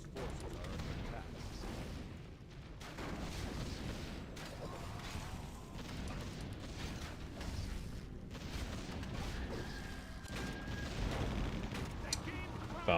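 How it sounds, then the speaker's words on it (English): Bombs explode on ziggurats in a Warcraft 3 battle, with a continuous stream of booming blasts and clattering combat noise throughout, steady and dense rather than isolated hits. "And he's just bombing all the ziggurats here."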